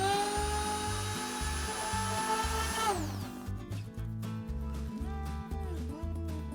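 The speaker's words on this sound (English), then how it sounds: "Get a sander, clean this up." A power sander smooths a clamped wood piece, its motor whining steadily near the mic with a pulsing, buzzing rhythm that drops in pitch partway as pressure changes.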